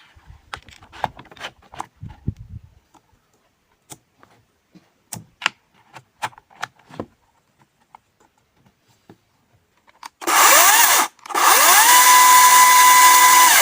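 An APRO cordless chainsaw follows scattered light clicks and handling taps, then starts with a loud, close high whine, cuts out briefly and runs again steadily to the end.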